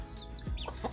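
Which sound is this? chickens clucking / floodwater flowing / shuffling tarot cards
chickens clucking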